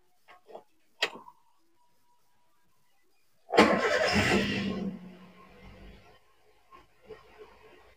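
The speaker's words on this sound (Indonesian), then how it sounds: "Coba ini saya masih nyalakan mesinnya dulu ya teman-teman." A manual car gives a few soft clicks of the key and dashboard, then the engine cranks and catches with a loud burst before settling into a quieter idle.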